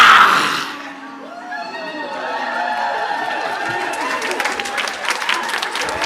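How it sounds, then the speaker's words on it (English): An audience applauds and cheers after a haka at an Indigenous mental health event, a loud shout at the start, then spread-out clapping and chatter that builds and continues, with voices mixed in. "Can we get a bigger round of applause for that, please?"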